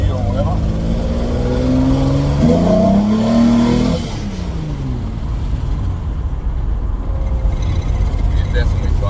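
A 265 Hemi engine on a dyno revs loudly in first gear, with rising harmonic tones climbing for about four seconds, then settling into a steady, rumbling drone. Voices talk over the engine noise.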